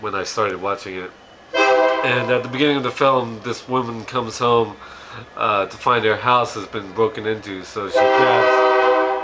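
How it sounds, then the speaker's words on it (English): A passing train sounds its horn in several long tooting blasts heard under someone talking continuously, the horn swelling louder toward the end. "Sorry about the train."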